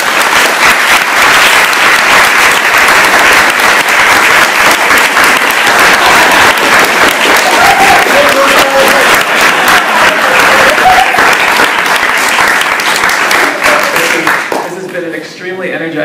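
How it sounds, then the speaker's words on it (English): A conference audience gives a long, loud round of applause for a panel, dense clapping that fades out near the end. "Let's give them a big round of applause."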